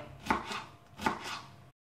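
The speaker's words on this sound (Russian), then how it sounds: "Мелко нарезаем укроп" A knife chops fresh dill finely on a cutting board in a home kitchen, with two quick bursts of crisp, rhythmic blade strikes and no talking, then silence.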